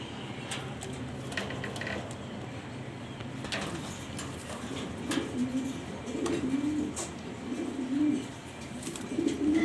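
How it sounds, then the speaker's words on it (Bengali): Black Danish pigeons coo steadily in a busy loft, several birds overlapping in low rolling calls that swell louder toward the end, with faint clatter around them. "ব্ল্যাক কালার ড্যানিশ কবুতর নর্থ কবুতর"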